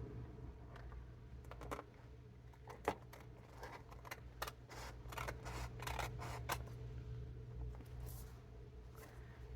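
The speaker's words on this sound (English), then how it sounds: "So maybe we'll trim this real quick." Paper being trimmed for a glue book with scissors, a series of short crisp snips and cuts at an uneven pace over a low steady background hum, close and moderately quiet.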